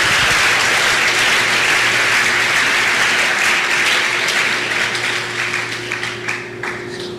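A church congregation applauds for Jesus in a sustained, dense burst of clapping that carries steadily and then thins and tapers off toward the end.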